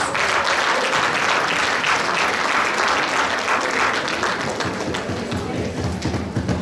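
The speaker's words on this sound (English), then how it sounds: "Give them a big round of applause, please." Sustained applause from a large crowd at a Women's Day celebration in Chicago, dense clapping that continues steadily throughout with slight fading toward the end.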